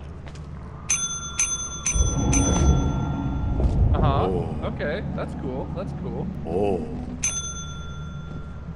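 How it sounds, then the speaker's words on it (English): A bell in the video game Lethal Company rings several times in quick bursts, then again near the end, between game noises and players talking over it. "They may not like you ringing their bell constantly."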